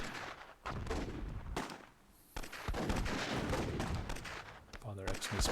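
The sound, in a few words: RPG rockets fired in Myth II Soulblighter video game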